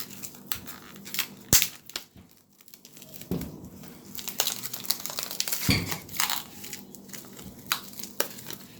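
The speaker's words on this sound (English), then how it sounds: "I'm gonna scrape out these seeds with a sharp edge spoon." Sharp-edged spoon scraping seeds and pulp out of a raw pumpkin, irregular wet crunching scrapes and crinkly strokes in short bursts, close and fairly quiet, with brief pauses between passes.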